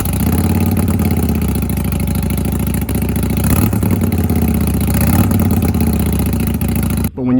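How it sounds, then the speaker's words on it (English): Harley-Davidson motorcycle engine idling, a loud, steady lumpy rumble with rhythmic low pulsing and clatter, cutting off abruptly near the end. "a Harley Davidson motorcycle should sound like this"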